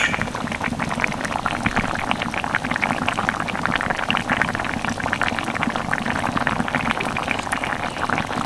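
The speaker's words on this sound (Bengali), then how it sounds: "ডিমের পিস আর গরম মশলা ধনে পাতা দিয়ে দু তিন মিনিট মতো ভালোভাবে ফুটিয়ে নিয়েছি" Bengali egg curry gravy with coriander leaves and garam masala bubbling at a steady boil, a dense continuous crackle of popping bubbles, close and even throughout with no voices.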